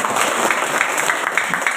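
A crowd at a Remontado/Dumagat community event in Angono, Rizal claps loudly and steadily, the claps falling into a brisk, fairly regular rhythm that fills the short stretch.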